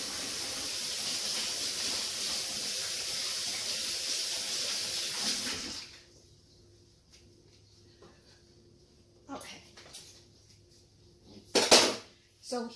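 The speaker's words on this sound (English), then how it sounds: "Wash my hands." A sink tap runs in a home kitchen while hands are washed, a loud steady hissing rush of water that cuts off abruptly midway, followed by quiet with a few clinks and handling knocks.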